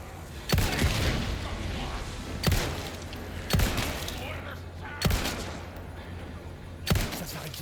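Heavy bursts of gunfire in the video game Resident Evil 4 Remake, five loud blasts spaced one to two seconds apart over a constant noisy game background.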